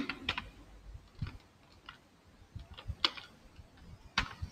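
Keys click on a computer keyboard while Python code is typed, sparse and irregular taps at low volume, nearby, with no speech.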